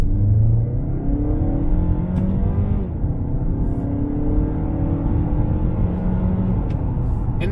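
A 2021 Mazda3 sedan engine accelerates with a steady, loud low rumble that holds throughout, with no talking over it.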